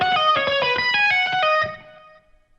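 Fast tapped electric guitar phrase from the second section of a solo, with rapid distorted tap and pull-off notes, loud and solo, ending in a short ringing fade.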